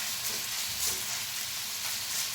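Ginger garlic paste frying in a pan with onion for a tawa egg masala gives a steady, close, hissing sizzle that runs unbroken throughout.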